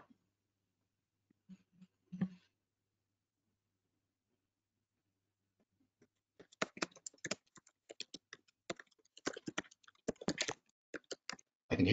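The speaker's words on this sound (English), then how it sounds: "I can hear typing" Rapid computer keyboard typing over an online meeting, fairly close and steady, with uneven bursts of key clicks after a few seconds of near silence and a faint knock.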